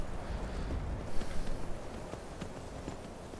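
Horse hooves clip-clop faintly at a walking pace in the video game Skyrim, soft repeated taps under light wind noise with no speech.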